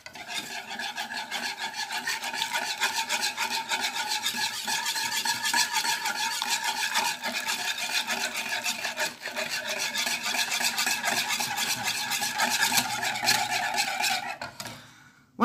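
A spoon scrapes and stirs a cooking mixture in a bowl, a continuous rasping swirl at close range that keeps a steady rhythm before stopping abruptly at the end.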